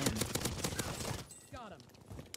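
Rapid bursts of gunfire crack out in a Call of Duty Warzone match, dense loud shots packed together at first, then thinning out as a voice talks over the fight.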